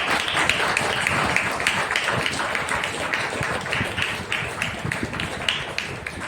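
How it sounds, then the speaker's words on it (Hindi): Loud, sustained applause from a church congregation, dense clapping with sharp individual claps standing out, steady for the whole stretch. "आइए जोरदार तालियों के द्वारा पवित्र आत्मा का स्वागत करें।"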